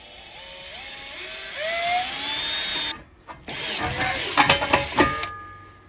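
A power drill bores a 7/32 inch hole for a saddlebag mount on a Can-Am Ryker, whining with rising pitch, cutting out briefly, then starting again with rough grinding bursts.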